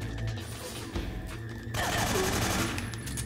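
Gunshots in the Metal Gear Solid 3: Snake Eater video game, with dense rapid automatic fire swelling into a loud sustained barrage over game effects.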